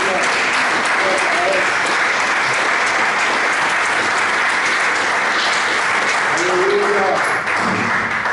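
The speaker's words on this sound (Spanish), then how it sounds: "Démosle un aplauso al Señor." Church congregation applauding together, a steady dense wash of clapping that holds at an even level for the whole stretch, with no voice rising above it.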